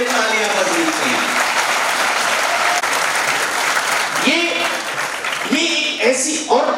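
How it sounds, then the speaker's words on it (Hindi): Sustained applause from a seminar audience at a law college, a dense, loud wash of clapping with voices rising above it toward the end. "इसमें हमारे साइंटिस्ट के लिए तालियां बजनी चाहिए"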